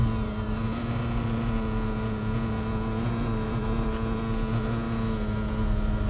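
A BMW M6 engine accelerating up a highway on-ramp, heard as a steady, buzzing drone with a constant level throughout and no talk.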